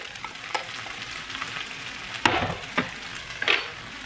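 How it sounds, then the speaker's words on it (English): Sabudana mixed with coarse peanut powder sizzles in a hot frying pan, with a soft steady fry broken by a few scraping stirs and clinks of the spoon. "Now we will add the sabudana that we had mixed with the coarse peanut powder"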